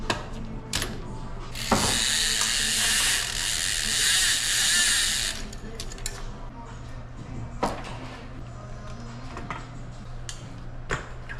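Bicycle being stripped down to the bare frame, with chain, wheels and cranks coming off: intermittent metallic clicks, ratcheting and clanks close by, plus a broad hissing burst early on, over a steady low hum.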